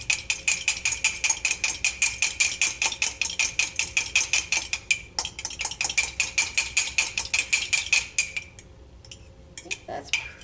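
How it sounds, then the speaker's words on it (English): A fork whisks a cracked egg inside a mug, producing rapid, regular metallic clinks against the ceramic, loud and close, running for about eight seconds before slowing into a few scattered taps. "I've got a fork here, and I'm going to mix it all up"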